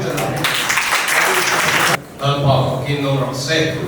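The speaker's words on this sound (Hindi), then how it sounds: "सबको उसका स्वागत के लिए ताली भी बजाएगा" A church congregation in Kolkata claps steadily for about two seconds in welcome, then the clapping gives way to a person speaking.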